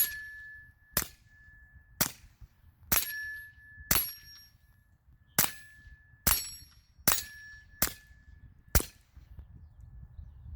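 Suppressed PPQ pistol firing CCI Mini-Mag rounds at a hanging steel plate, giving ten sharp reports at uneven intervals of about a second, several followed by a bright ringing clang of the struck steel, with no talking.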